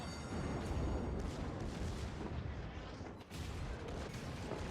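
Naval secondary guns firing at a destroyer in World of Warships: dense, continuous rumbling gunfire and booms with a faint overall level.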